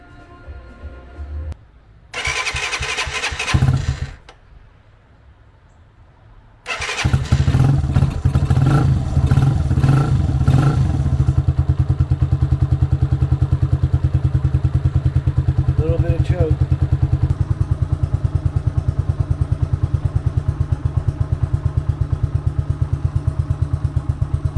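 A mini motorcycle engine cranks in short bursts, catches, and revs a few times before dropping into a loud, busy idle that runs on steadily, with a voice speaking over it at points.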